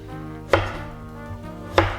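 A knife slicing scallions or scallops on a cutting board, two crisp chops spaced just over a second apart against a low steady background hum.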